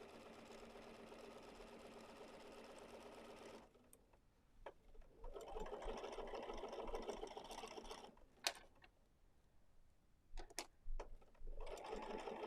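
Sewing machine stitching through a quilted pillow, a steady close whirring hum that stops partway through, then resumes in short bursts and a final steady run.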